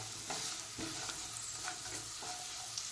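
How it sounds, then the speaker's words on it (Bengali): Puffed rice lightly frying with curry leaves in a pan, soft sizzling under a few distinct scraping stirs of the spatula, close and fairly quiet. "দিয়ে এটা হালকা ভাজা ভাজা করে নেব।"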